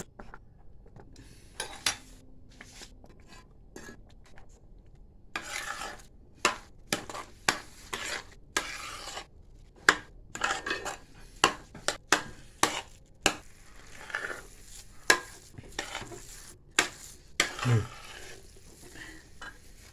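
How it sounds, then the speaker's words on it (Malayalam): A spoon stirs roasted, ground rice flour into a thick sweet mixture in a pan, giving sharp, irregular scrapes and knocks that speed up into a steady rhythm, with a low background hiss. "ഇതിലേക്ക് വറുത്ത് പൊടിച്ച കുത്തരിപ്പൊടി ചേർത്ത് നന്നായി ഇളക്കി യോജിപ്പിക്കുക"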